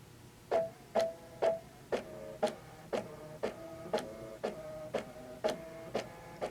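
An embroidery machine stitches an applique design onto a tea towel, each stitch a distinct mechanical thunk-and-whir repeating in a steady rhythm about twice per second, close and clear with no talking.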